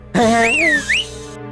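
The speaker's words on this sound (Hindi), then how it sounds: "तू क्या हर बात पे सीटी बजाते रहता है" A person whistles a bright, sliding two-part tone close and loud, rising, dipping and then swooping up again, in a scene from a South Indian action film dubbed into Hindi.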